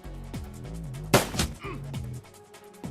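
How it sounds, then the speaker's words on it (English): Gunshots in the Shadowrun Returns tactical game: a couple of sharp, closely spaced shots rise above soft background music and game effects, brief and moderately loud. "Let's see if we can hit him with 2 shots."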